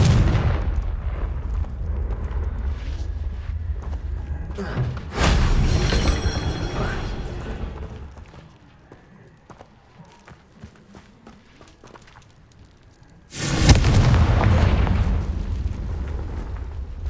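Fiery Confringo spell explosions in the Hogwarts Legacy game on PS5: two heavy booming blasts several seconds apart, each a loud, rumbling burst, with quieter crackling combat noise between them.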